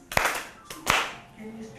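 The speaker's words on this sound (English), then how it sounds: "Can you clap your hands?" A child or small group clapping hands during a story-time session: two sharp claps about three-quarters of a second apart, fairly close, followed by a faint voice.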